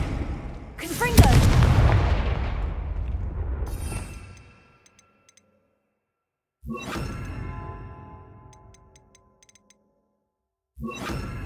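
Combat spells from Hogwarts Legacy burst out in loud booming blasts and whooshes, one long crackling explosion followed by two sharper bursts separated by silence, with a voice calling out spell names.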